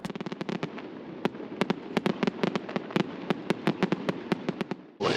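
Fireworks burst over the seaside town of Scilla, a rapid string of sharp cracks and pops in irregular bursts, some clustered and some spaced, all fairly distant with a steady crowd-like background murmur and no talk.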